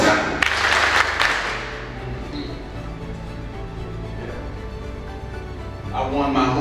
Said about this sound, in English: if you believe that, clap 4 times